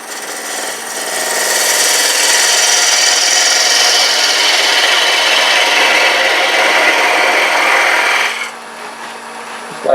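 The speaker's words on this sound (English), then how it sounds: "I'm going to use my half-inch, maybe it's 3/8, 10 mil parting tool" A parting tool cuts into a turned wooden box on a lathe, giving a loud, continuous rasping hiss that rises after the first second and stops abruptly near the end, leaving a quieter motor hum.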